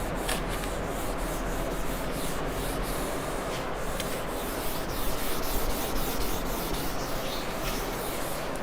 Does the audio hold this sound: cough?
no